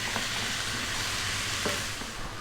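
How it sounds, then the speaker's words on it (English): Soft, continuous sizzling of vegetables frying in a pan over high heat for fried rice, with a low hum beneath and occasional faint stirring clicks. "we've got a beautiful selection of vegetables frying around in there"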